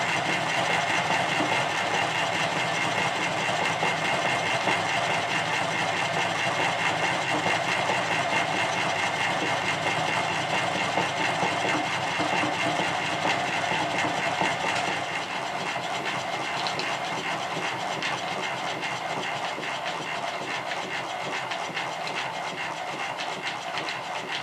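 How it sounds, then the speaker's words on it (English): Two model steam engines fired from a 6-inch copper boiler on a kitchen table keep running after the gas is shut off, giving a continuous rapid mechanical chuffing and clatter that fades slightly toward the end. "Now it's time to see how long the engines run with the gas turned off."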